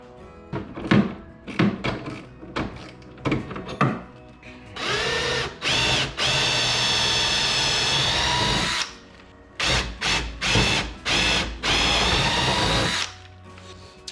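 A power drill bores holes during a steering system install on a jon boat side console, sounding in several short bursts and then one long sustained run with brief stops, loud and close, with no talk.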